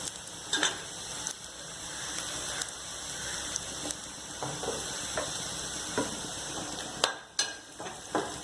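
Ten to twelve chopped garlic cloves fry in oil until brown, a constant crackling hiss broken by spatula scrapes and clanks against the pan.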